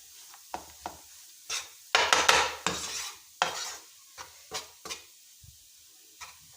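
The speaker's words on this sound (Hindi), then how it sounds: "तो ये हमने रबड़ी इसमें मिक्स कर दी है।" Rabri is stirred into sugar syrup for barfi, with a spoon scraping against the pan in irregular close strokes, some sharp and some soft, separated by brief pauses.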